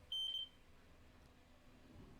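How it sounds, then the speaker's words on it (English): A Quell smoke alarm gives one short, sharp, high test beep near the start while its button is held, followed by quiet room tone. "you hold onto the button just like this and you can hear a beep"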